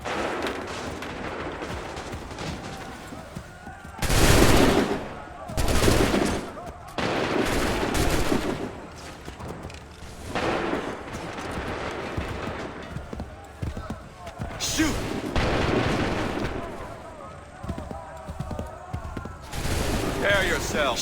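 Musket volleys in Assassin's Creed III crack out in several loud, broad bursts spread across the scene. Between them, shouted commands and battle noise carry on.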